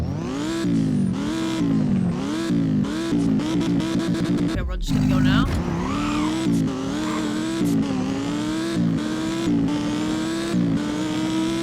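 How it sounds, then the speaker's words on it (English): An Audi R8 in the video game Driving Empire revs repeatedly in neutral, its engine note climbing and falling in a string of sweeping bursts with a brief gap midway. A person speaks briefly over it. "Put it in neutral and let's rev this thing real quick."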